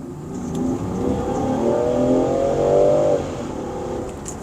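A 2024 Land Rover Defender 130 Outbound's turbo petrol engine, 292 kW and 550 Nm, accelerates hard at full throttle in a rising, straining whine for about three seconds, then eases off, heard from inside the car.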